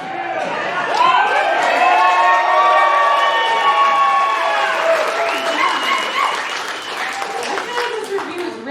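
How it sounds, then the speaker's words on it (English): A comedy club audience applauds and cheers loudly in a dense, continuous wash of clapping, whoops and shouts that holds for several seconds and slowly tapers off. "a cheering audience."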